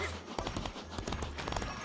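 In the Disney Infinity Lone Ranger game, horse hooves clip-clop in a quick, fairly even rhythm of galloping beats under an ongoing game soundtrack, with players talking over it.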